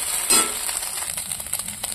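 An egg frying in a pan on a home stove, with a sharp sizzle burst as it hits the oil, then a steady hiss with light scraping, no talk.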